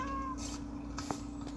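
A cat from the Minecraft video game gives a short, soft meow followed by a faint second mew, set against a low steady background hum.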